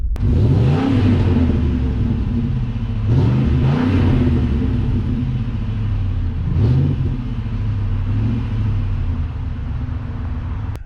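Ford Raptor pickup truck exhaust revving outdoors in a series of loud, close throttle blips that rise and fall over a steady idle rumble, with no talking.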